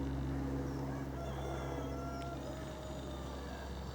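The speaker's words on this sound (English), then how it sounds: "And a couple of cockerels." A couple of cockerels crow in the distance at a misty rural spot on a country walk. The calls are faint and drawn out over a steady low rumble of background noise.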